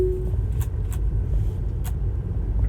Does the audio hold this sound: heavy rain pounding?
no